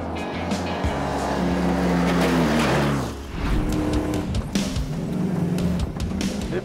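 Baja 1000 off-road Volkswagen Beetle race car driving, its engine loud and close with a rising rev sweep, a brief drop near the middle, then steady rough running with rattles and bumps.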